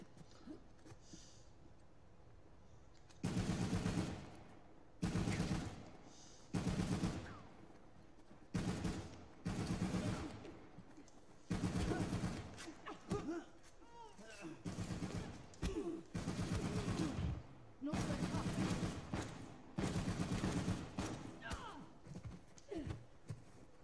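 Bursts of gunfire from Uncharted: The Lost Legacy, with repeated loud volleys of automatic fire separated by short pauses over a jungle firefight.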